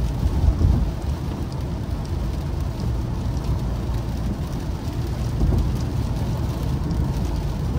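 Heavy rain pours steadily with deep rolling thunder underneath, a dense continuous wash of sound with no voices.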